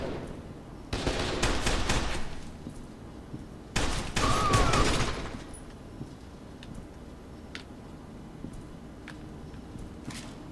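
Assault rifle gunfire from the shooter game F.E.A.R. Reborn comes in two loud rapid bursts, the second longer, followed by quiet stretches with faint ticking.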